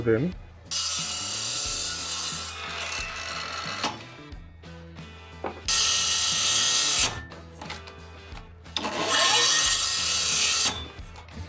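A ProCraft PGS 20 cordless miter saw running on a 2 Ah battery while cutting a 10 cm board: three loud bursts of motor whine and blade rasp, separated by brief pauses where the motor cuts out and restarts.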